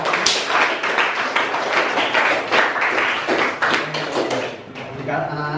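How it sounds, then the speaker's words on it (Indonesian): Students applaud in a classroom with a lively stretch of clapping, some individual claps standing out, tapering off at the end as a voice comes in. "Baik anak-anak, tepuk tangan untuk kegiatan."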